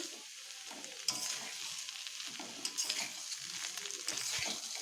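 Small fried mola carplet fish, added back to a pan of spiced gravy with pointed gourd, sizzle and crackle steadily as they are stirred and sautéed, with scraping strokes throughout and no voices.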